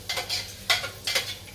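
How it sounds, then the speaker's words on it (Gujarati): Kasri, fritters made from chibda melon, frying in hot oil, with stirring and the scrape of a utensil in the pan in a few short close bursts. "તો આજ મેં કીધું હશે ને થોડીક કાસરી તળી નાખું."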